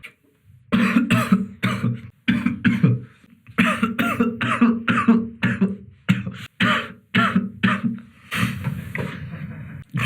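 Repeated harsh coughing fits after vaping a 6mg e-liquid, close and loud, in short bursts with brief pauses between them.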